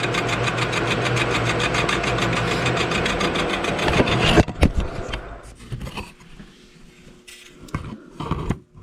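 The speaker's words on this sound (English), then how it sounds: "Alright, got this set up in the mill." A milling machine cuts an aluminum casting from a NEMCO 56600 tomato slicer. A steady, buzzing machining drone runs for about four seconds, then stops, leaving scattered clanks and handling knocks.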